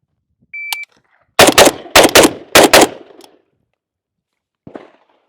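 An AMD-65 rifle fired outdoors at a shooting range, a fast string of about six loud, sharp cracks in two tight pairs and clusters, followed by a brief tail and one fainter distant report.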